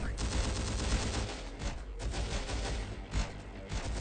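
Rapid bursts of sniper and rifle fire in the video game Terminator: Dark Fate - Defiance, overlapping shots crackling densely throughout with a few heavier cracks, fairly close and sustained.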